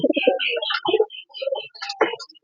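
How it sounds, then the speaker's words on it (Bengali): Close calls of racing pigeons, low soft cooing mixed among brief higher chirps, in short bursts with small pauses between. "এই হচ্ছে ফ্লাইং লবটার কবুতর"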